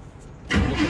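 A pickup truck engine cranks and catches with the key after a half-second of near silence, then runs at a loud, close, rough idle.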